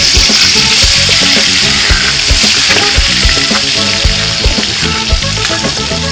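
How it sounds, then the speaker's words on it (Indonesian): Spice paste sautéing loudly in a pan, a dense steady sizzle with rapid crackling and occasional stirring scrapes, very close and with no one talking. "Langsung aja kita tumis"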